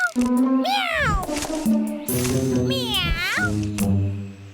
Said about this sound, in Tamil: meow meow